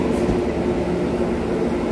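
Steady low rumble inside a crowded local Merak passenger train bound for the harbor, a continuous droning hum with carriage noise and no clear voices, constant in level throughout.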